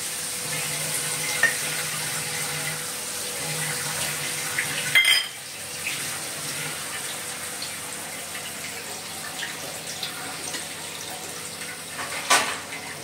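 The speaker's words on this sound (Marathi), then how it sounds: "पाणी टाकूया." Water pours and splashes into a pot of fish curry amid a steady sizzling hiss, with an occasional clink of metal, close and continuous.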